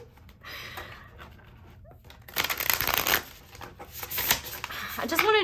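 Tarot cards get a bridge shuffle: riffled cards give a dense papery flutter in two close bursts after some soft handling, with a person talking faintly underneath.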